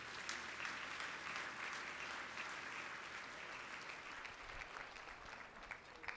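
Sustained applause from a large audience, a dense even patter of clapping that continues steadily throughout.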